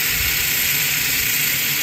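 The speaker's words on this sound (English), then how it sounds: "So that water's steaming, and that steam, you know, it helps with the bark like we mentioned earlier." Water steaming in a Slow 'N Sear insert on a Big Green Egg charcoal grill gives a steady, even hiss with no breaks, close and fairly loud.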